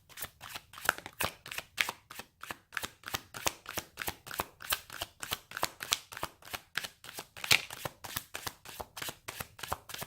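Tarot cards shuffled by hand in a steady stream of crisp riffling flicks, a fast regular rhythm carrying on throughout at close range with no talking.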